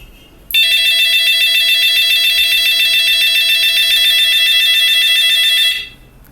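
A W1209 digital thermostat's low-temperature alarm buzzer sounds a loud, steady electronic tone that holds unbroken for about five seconds, then cuts off, with nothing else heard around it.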